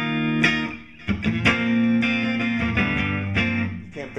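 Electric guitar played through an Eventide TimeFactor delay pedal set to a subtle amount, sustained chords and picked notes ringing with a faint delayed trail, close and fairly loud with no talking.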